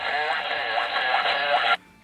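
Ham radio receiver in AM mode while a screwdriver antenna is tuned: a steady, hissy band of static with faint warbling tones, moderately loud, cutting off abruptly near the end to quiet.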